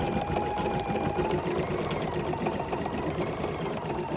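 An embroidery machine stitches a quilting pattern, running in a steady, fast mechanical whir with rapid needle ticks throughout, close and continuous with no talking.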